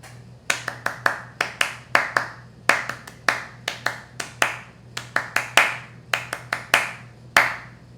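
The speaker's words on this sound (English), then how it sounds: "deserve a Class A clap" One person claps their hands in an irregular series of sharp, close, loud claps, some singly and some in quick bursts, with a steady low hum behind them.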